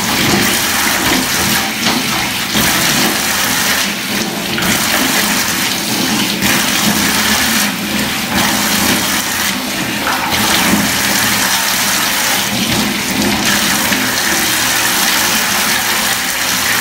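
Cold water splashed onto a face at the sink: water rushing steadily and loudly from a tap, with repeated splashing bursts every couple of seconds and no voices.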